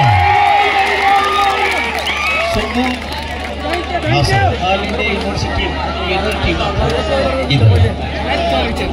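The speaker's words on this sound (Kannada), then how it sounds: "ಒಂದ್ಸಲ ಜೋರಾದ ಚಪ್ಪಾಳೆ ಬರಲಿ ಪ್ರೇಕ್ಷಕರ" Spectators at a high-stakes kabaddi match between Alva's and Sahu Sadoli keep up a continuous crowd roar with scattered cheering and clapping, while an amplified commentator talks loudly over the noise.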